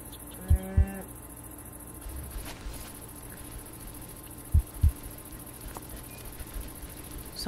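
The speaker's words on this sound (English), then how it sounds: "That's a cow there." Two short low moos from a Minecraft cow, a pair near the start and another pair a few seconds later, over a faint ambient hum with insect-like chirping in the background.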